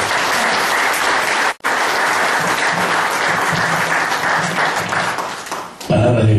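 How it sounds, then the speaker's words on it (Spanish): Women gathered at a Women's Day celebration in Peru give loud, sustained applause, a dense wash of clapping that briefly cuts out and then fades as the event continues. "un aplauso para todas nosotras en nuestro día"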